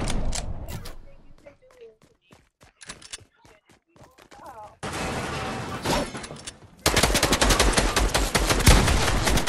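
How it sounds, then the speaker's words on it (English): Shotgun blasts in the video game Fortnite, sharp cracks alongside clicking and creaking mechanisms, building into long stretches of loud rapid gunfire near the end. "With the shotgun."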